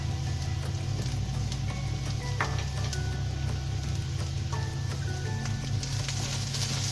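Turmeric, Kashmiri red chili powder, coriander and garam masala sauté in a pan for stuffed capsicum curry, giving a steady close sizzle broken by a few light scraping stirs, with no talking.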